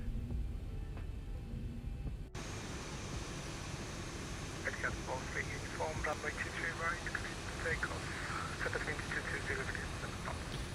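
A Boeing 737-800 in X-Plane 11 rolls out after landing, its jet engines giving a steady low drone beneath someone talking.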